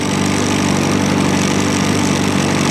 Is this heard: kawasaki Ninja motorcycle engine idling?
yes